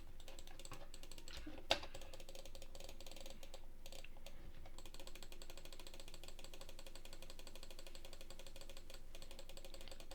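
Rapid, continuous mouse clicking chatters steadily at low volume, with one sharper click standing out early on.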